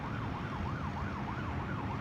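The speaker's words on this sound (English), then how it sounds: "It looks like you can hear some ambulances or some fire engines" Wailing ambulance or fire engine sirens near a fire in Manila, sweeping up and down in a steady repeating cycle, fairly distant under a continuous wash of city traffic rumble.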